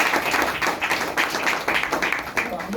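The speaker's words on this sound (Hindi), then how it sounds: "एक बार अपने अपने और अपनों के लिए जोरदार ताली" Audience at a business presentation seminar in Ormanjhi breaks into loud, close applause, a dense run of rhythmic clapping bursts that continues steadily throughout.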